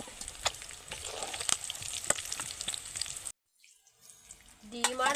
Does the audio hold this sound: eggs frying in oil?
yes